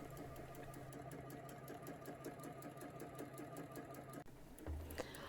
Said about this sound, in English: I also stopped to adjust the speed of the sewing machine as I felt it was too fast